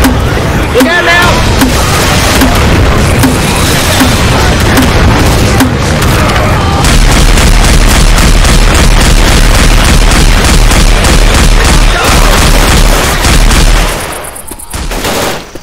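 Grenade launcher and other guns firing in Left 4 Dead 2 during a Gun Game mutation mod, loud repeated booms and rapid gunfire bursts packed close together, with someone talking over the steady barrage.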